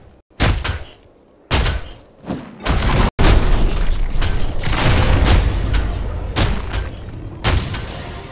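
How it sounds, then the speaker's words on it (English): Enemy tower in the video game Paragon being destroyed, with several heavy booming blasts and thuds in quick succession, followed by a sustained loud rumbling crash of collapse and debris. "Enemy tower destroyed."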